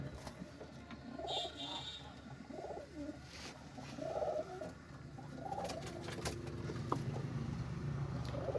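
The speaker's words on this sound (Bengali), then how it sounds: "এই দেখেন একটা কবুতর দেখেন" Jalali and local pigeons coo in a farm loft, soft rolling calls repeating at intervals over a quiet background hum.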